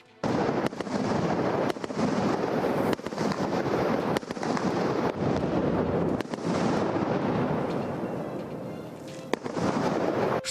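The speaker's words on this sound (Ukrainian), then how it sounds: "Спершу кидають гранату і лише після вибуху заходять на зачистку." Grenade blasts during a military assault drill in a city-clearance exercise in the Chornobyl exclusion zone: a dense run of loud, sharp bangs and cracks, repeated throughout and close by.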